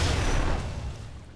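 A single loud, booming gunshot in XCOM 2 rolls out into a rumbling decay that fades over a second and a half.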